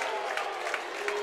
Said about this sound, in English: Good crowd reaction there from your student section